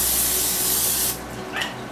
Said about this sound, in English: you're just going to want to spray it with Pam.